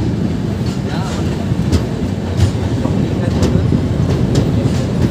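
The Dibrugarh–New Delhi Rajdhani Express rolls past with a loud, steady rumble and rhythmic clickety-clack of wheels over rail joints, nearby and continuous.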